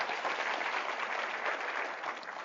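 An audience applauds in a steady round of clapping at a fall research exposition event, dense and continuous at moderate volume throughout with no voices over it.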